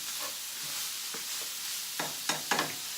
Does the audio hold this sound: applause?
no